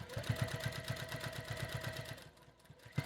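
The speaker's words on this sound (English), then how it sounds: "Now we're sewing through a few layers" A sewing machine stitches the seam of a pillow cover through several fabric layers, its needle thumping in a fast, even rhythm close by before slowing and stopping near the end.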